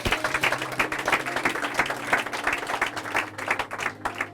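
A church congregation claps and cheers for Jesus during a French-language service, a dense, continuous wash of many hands applauding at close range, steady throughout with no speech over it.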